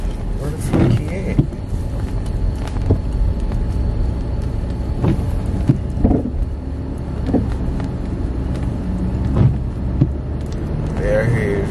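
A car drives fast, its engine and road noise forming a steady loud rumble from inside the cabin, with people talking over it throughout.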